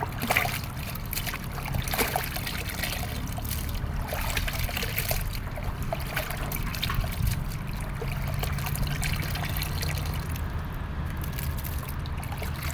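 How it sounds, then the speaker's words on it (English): Water trickles and splashes steadily while honeycomb is washed by hand, a continuous close wash of running, dribbling water with no speech. "You have to keep washing until the water becomes white."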